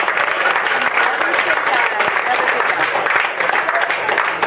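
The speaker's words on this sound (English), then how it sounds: "So you all deserve a round of applause." Volunteers at a North Shore Republicans thank-you party give a steady, dense round of applause that holds loud for several seconds, with faint voices mixed into the crowd.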